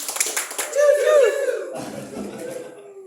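A group claps together in quick rhythmic bursts, then voices join in a loud shouted chant over a noisy room.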